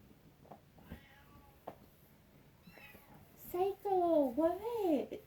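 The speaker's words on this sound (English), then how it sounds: "Just keep meowing at me." A new kitten meows several times up close, high drawn-out cries growing louder toward the end, after a stretch of faint background sounds.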